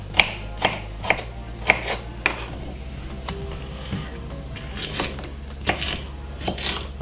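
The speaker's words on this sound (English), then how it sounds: "small knife just to cut up all of these right here" A small, sharp knife cuts fresh salad vegetables on a board, giving a series of crisp, moderately loud taps at a fairly even rhythm that grow softer and more spaced out.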